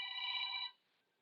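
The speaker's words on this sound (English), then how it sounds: "I just had a phone call come through my headset" A phone call rings through a headset, one bright electronic ring tone lasting about two thirds of a second and then cutting off, heard alone.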